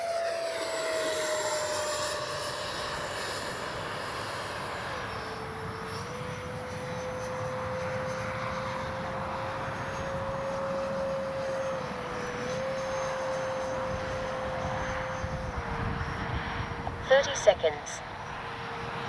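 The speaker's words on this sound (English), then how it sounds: "Let's give ourselves a nice pass here. Full speed into the wind." An FMS J-10 Vigorous Dragon RC jet makes a full-speed pass into the wind, with a steady high whine from the ducted fan that holds for a long stretch at moderate distance, plus a few brief knocks near the end.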